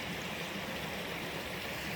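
Cold creek water flows in a soft, continuous rushing wash heard at a low level, steady throughout with no talking.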